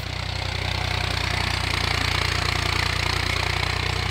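An old tractor engine runs steadily nearby, a continuous loud mechanical drone with a fast, even low throb, being driven to plough a garden in Višegrad.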